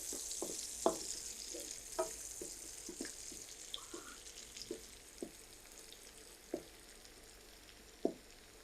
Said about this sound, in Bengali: এখানে 3টার মতন পেঁয়াজ কুচি দিয়ে দিলাম।